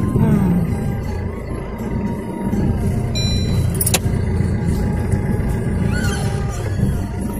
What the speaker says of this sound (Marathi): हे बघा इथे एक ट्रक भरती समोर चालल्या टायर गाड्या.